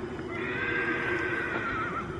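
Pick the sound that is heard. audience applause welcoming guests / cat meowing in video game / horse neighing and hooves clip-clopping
horse neighing and hooves clip-clopping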